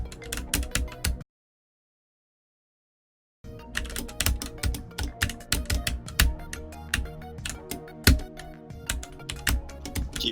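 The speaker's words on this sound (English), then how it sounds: "Keyboard clicks are getting really intense now because of 16 pixel touch." Rapid, dense computer keyboard clicks clatter close by during a speedrun of a platform game, broken by a short silent gap before the frantic tapping resumes.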